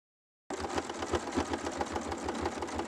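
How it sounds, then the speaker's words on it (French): A sewing machine stitches along the top of a fabric bag, a fast, steady mechanical chatter that starts abruptly after a brief silence and runs close and clear. "Et on va venir coudre tout le long là-haut."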